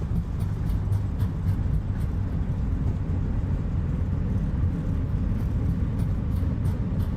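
Airbus A320 thrust reversers roaring during landing rollout in a flight simulator: a steady, loud, broadband rushing drone that holds evenly throughout with no break.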